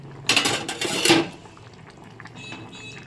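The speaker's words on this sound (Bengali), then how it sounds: "ভেজে রাখা মাছগুলো দিয়ে দিলাম" Pieces of fried rohu fish go into a pot of simmering curry with drumsticks, making a short burst of clattering and splashing, then a quiet bubbling simmer.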